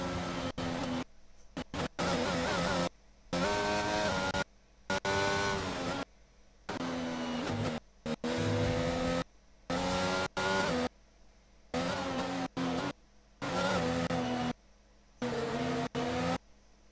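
Formula 1 race cars from the F1 22 game at the Australian circuit, filing behind the safety car, engines droning loud and close in repeated bursts separated by abrupt silent gaps.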